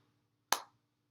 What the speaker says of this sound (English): So it's like a clap, and then it's like a circle.